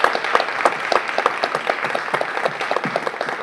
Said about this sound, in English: Just one more round of applause for our guests.